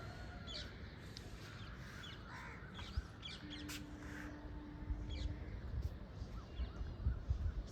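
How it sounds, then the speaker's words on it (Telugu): Crows and other birds call sporadically in the early morning, with scattered caws and chirps over a low, steady outdoor rumble, fairly faint and distant. "సౌండ్స్ వినండి, లైక్ పక్షుల సౌండ్స్ ఎంత బాగుంటుందో రిలాక్సింగ్గా"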